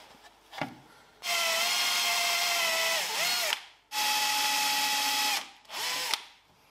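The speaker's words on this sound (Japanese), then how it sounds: "これの中心部分に穴を開けます" A power drill bores a hole through the center of a repair patch on a dented steel fender of a Mazda RX-7 FD3S, running in two long loud whining bursts with a brief spin-up and a short final burst, close up.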